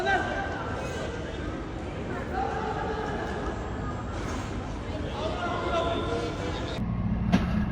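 Steady low rumble of a moving train carriage with continuous rolling noise, faint voices of other passengers chattering in the background.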